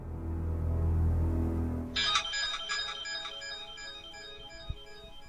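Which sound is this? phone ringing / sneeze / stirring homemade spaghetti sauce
phone ringing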